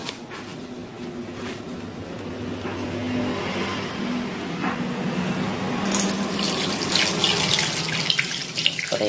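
Water runs steadily from a bathroom sink tap, a continuous hiss and splash that grows brighter and louder in the last few seconds, with no one speaking.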